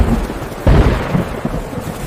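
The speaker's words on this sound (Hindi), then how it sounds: "आज घनी बारिश हो रही है" Heavy rain pours down steadily, loud and close, with a deep roll of thunder swelling briefly partway through; no voices.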